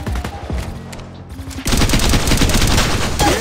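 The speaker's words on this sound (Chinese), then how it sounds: "现在朝我开枪" Gunfire in the Apex Legends Mobile game: a few spaced shots, a brief lull, then rapid sustained automatic bursts, loud and close, continuing to the end.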